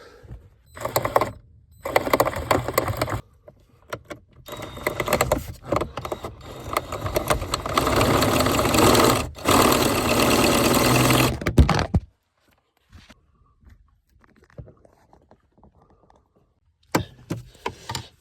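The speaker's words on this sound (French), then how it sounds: "Donc je vais essayer de percer avec le même outil du coup." A power drill bores out a stripped screw beside a plastic radiator on a Range Rover P38 in loud, close bursts, starting and stopping in uneven runs before a long steady stretch, then quiet with faint handling.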